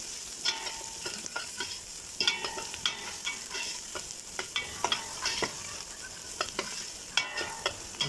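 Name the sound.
frying ginger garlic paste with onions in a pan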